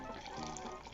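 Scorpion Bowl cocktail made with orgeat being poured back and forth between cups, a steady close liquid splash and trickle running for under a second with no talk over it.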